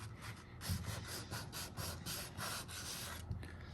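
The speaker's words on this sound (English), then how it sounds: "This is 400 grit sandpaper" 400 grit sandpaper rubbed over primed, flaking paint on a Chevy Silverado truck in quick, rhythmic back-and-forth strokes, a close but fairly quiet scratchy rasp.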